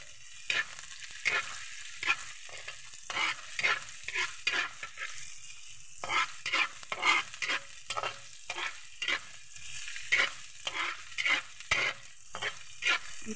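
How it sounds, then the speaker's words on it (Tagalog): Garlic sautéed in a pan with lemongrass sizzles steadily while a utensil stirs in repeated scraping bursts, close and fairly loud, with no talk. "Gisa-gisa lang muna tayo."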